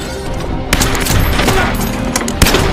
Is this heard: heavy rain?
no